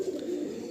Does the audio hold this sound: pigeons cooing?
yes